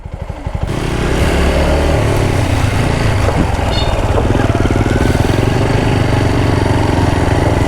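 A motorcycle ridden by a child starts up and then runs loud and close, its engine holding a steady, buzzing rumble for several seconds.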